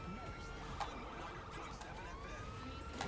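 Siren of an ambulance or fire engine in the video game GTA V, a steady wailing tone that sweeps over several seconds, heard among game sounds while someone talks over it.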